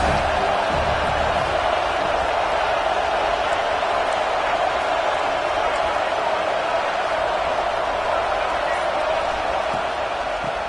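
Loud, steady roar of a stadium crowd at a Stanford vs USC college football game, a dense wash of voices that holds constant for the whole stretch with no clear breaks.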